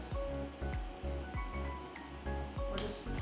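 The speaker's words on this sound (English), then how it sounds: "We're just gently going to whisk that together." A whisk taps and clinks rhythmically against a glass bowl while stirring yeast into warm water, about six quick repeated strokes, near and moderately quiet.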